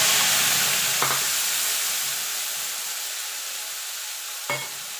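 Spice paste sizzles and fries steadily in hot oil in a pan for a vegetarian potato curry, with bay leaf and cumin seeds, a continuous loud hiss broken by two brief stirring scrapes, no talk.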